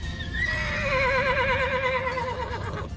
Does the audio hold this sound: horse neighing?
yes